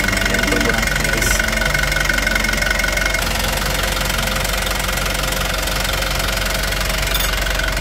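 A car engine idles after a new turbo has been fitted, giving a steady, close, continuous rumble with a rattling, knocking texture while someone talks over it.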